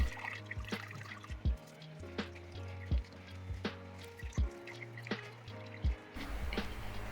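Walnut-husk dye liquid drips and trickles through a strainer, a steady run of soft close drops with a few louder splashes against a low background hum.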